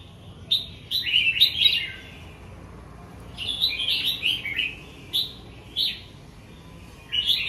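A caged songbird, a song long bird, gives bright chirps in short bursts with pauses between, fairly close and clear over a quiet background.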